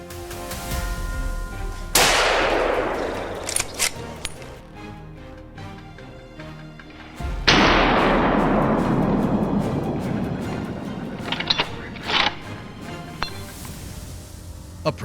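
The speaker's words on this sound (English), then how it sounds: "The gunshot echoes, sending the herd scattering in panic" Two loud gunshots during a wild boar hunt in the woods, each a sharp crack followed by a long rolling echo that fades over several seconds, with lighter knocks and noises between them.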